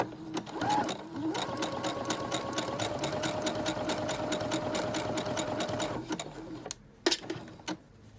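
Sewing machine stitching buttonholes on a shirt front and cuff, a steady rapid mechanical chatter for about five seconds, then a few isolated clunks and clicks as it stops.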